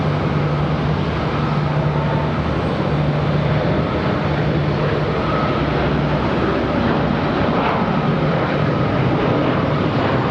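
A United Express plane at Charlotte Douglas airport gives off a loud, steady broadband roar with a low engine hum, continuous and close, with no voices.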